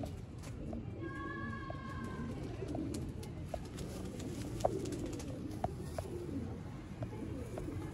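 Jaunsre pigeons with red pearl eyes coo softly and repeatedly at a moderate distance, a low steady murmur with a few brief higher calls over background noise and no speech.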